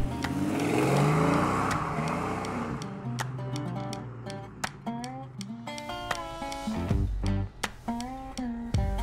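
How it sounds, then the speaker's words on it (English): An old car's engine with a Ford AOD automatic transmission revs under acceleration and shifts into second, the tone dropping then climbing again; the engine is close and loud, with tonal whine and a few ticks and clunks. "Accelerate, you're going to hear it shift into second."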